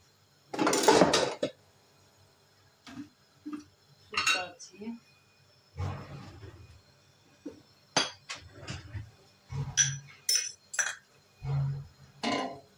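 A metal spoon stirs boiling mixed tomato and pepper paste in a pot, giving irregular knocks and scraping clinks against the sides, close and fairly loud, with quiet pauses between strokes.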